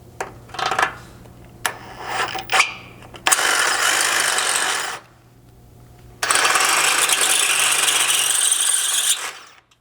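Ratchet wrench clicking while running a 1/2-inch thread cutting bolt into a Bronco frame during a rock slider install, with several short click bursts followed by two long continuous loud ratcheting runs, close up.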